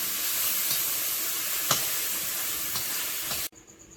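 Oil sizzling in a hot wok, a steady loud hiss with a few faint crackles, stopping abruptly near the end.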